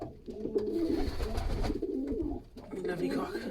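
Stock pigeons coo in low, repeated throaty bursts close by in a loft, including a paired hen, with steady rolling calls filling most of the moment.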